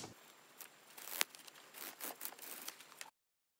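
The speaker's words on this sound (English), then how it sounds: "Take your craft knife, cut through maybe 5 or 6 layers" A craft knife slices through a stack of five or six layers of masking tape, giving close, scratchy tearing and crinkling with one sharp snap partway through, then brief scraping cuts before stopping.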